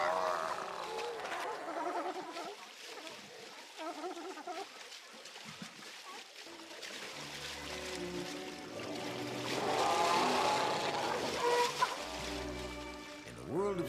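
A sea lion colony hauled out on an Alaskan shore sends up a chorus of deep barks and roars over surf and splashing water, with a narrator talking over the scene.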